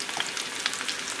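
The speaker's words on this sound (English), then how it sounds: "Let the potatoes cook" Potatoes fry in a pan, giving a steady, close sizzle with small crackling pops throughout and no talking.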